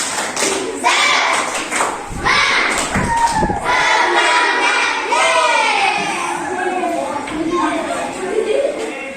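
A classroom of children performs a rhythmic spirit-clapping routine, with loud clustered claps and thumps mixed with children's voices and shouting.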